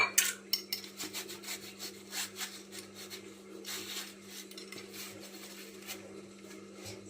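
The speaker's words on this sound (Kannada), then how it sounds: "ಬೇಗ ಬೇಗ ತೊಳ್ಕೊಬೇಕಾಗುತ್ತೆ. ಸ್ವಲ್ಪನೇ ಇದ್ದಿತ್ತು ಪಾತ್ರೆ." Utensils being washed give a run of close, irregular clinks and scrapes of metal against metal, loudest at the start and then settling into softer rubbing and clatter under a steady low hum.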